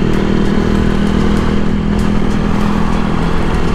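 Motorcycle engine running steadily while the rider works the clutch in traffic, a loud continuous droning hum with slight revving variation throughout.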